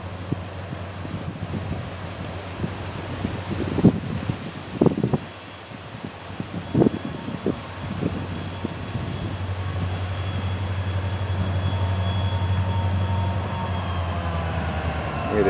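A 116-axle freight train rumbles north at a distance with a steady low locomotive drone, wind buffeting the microphone and occasional thumps.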